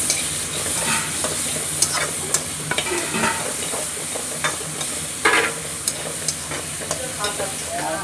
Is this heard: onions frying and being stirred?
yes